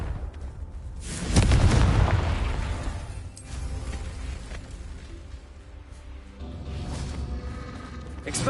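Confringo blasting spell explosion in Hogwarts Legacy, a loud booming burst with a rushing tail, followed later by a softer second swell of blast noise.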